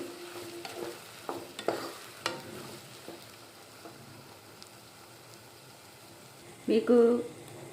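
Three large onions and five green chillies fry in a pan for an Andhra-style elephant foot yam and raw mango curry, giving a soft sizzle with occasional stirring scrapes and a louder clatter near the end.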